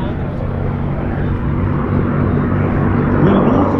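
A North American P-51D Mustang, a World War II propeller fighter, flies past with a steady, loud engine drone that swells slightly toward the end.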